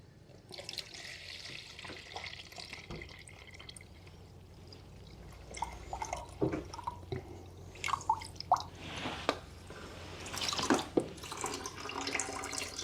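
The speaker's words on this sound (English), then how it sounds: "Fill with filtered water." Filtered water trickles and drips into a container nearby, with a steady low hum underneath and occasional clinks and splashes growing busier toward the end.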